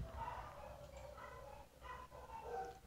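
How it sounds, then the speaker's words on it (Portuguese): Several dogs bark and yip in the distance, faint repeated calls in short bursts over low background noise. "toda vez que eu vou gravar, a cachorrada começa a latir"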